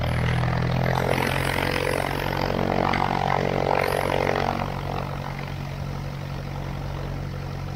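A Cessna Skyhawk propeller plane runs its engine on the runway at Bellingham for takeoff, a steady droning hum with a louder stretch that drops to a lower, even idle partway through.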